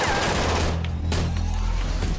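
A rapid burst of gunfire crackles over a loud, dense background, with sharp cracks clustered near the start and middle of the clip.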